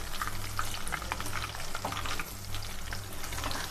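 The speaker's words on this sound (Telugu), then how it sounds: "కరివేపాకు కూడా వేపుతున్నానండి దండ వేయడానికి" Curry leaves frying in hot oil, a steady crackling sizzle with sharp pops and spatters throughout, heard close and alone without any voices.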